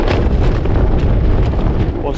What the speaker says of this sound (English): this wind is also carrying a bit of rain outside as well